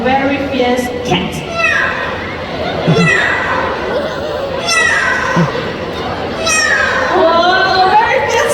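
At a bird show at Bird Paradise Singapore, a parrot imitates a fierce cat with several loud, rising and falling yowling cries over the chatter and murmur of an audience.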